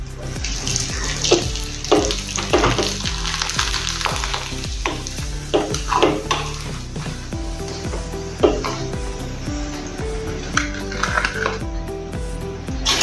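Rice papad fries and puffs up in hot oil, making a continuous crackling sizzle that sits under loud background music with a steady beat.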